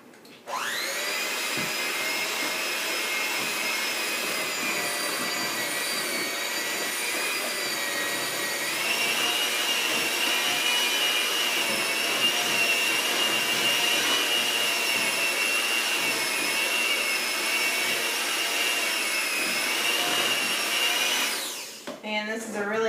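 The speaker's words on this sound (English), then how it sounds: "And this is a really thick mixture. It's going to give your hand mixer a workout." A hand mixer grinds steadily through a very thick peanut butter pie filling, a loud continuous motor whine holding for about twenty seconds with a slight pitch shift midway, then cutting off abruptly near the end.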